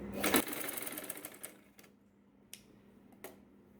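A sewing machine stitches a saree blouse in a quick burst at the start, then falls quiet apart from a few sharp isolated clicks and taps.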